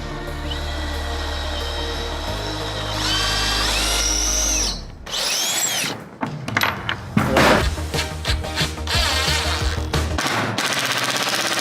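A power drill whines steadily, its pitch rising as it revs, then chatters and stutters in rapid bursts as the screw bites into a utility trailer's floor, loud and close.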